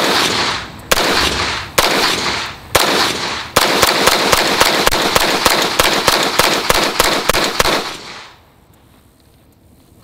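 Rapid gunfire from a SIG M400 Tread rifle: a few spaced single shots, then a fast string of about a dozen loud, sharp reports in quick succession, ending abruptly into quiet.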